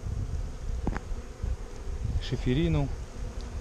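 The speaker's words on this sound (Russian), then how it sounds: "И теперь вот пчела прилетает" Honeybees from a drone-laying colony return to their hive, a steady close buzzing that fills the scene while someone briefly speaks over it.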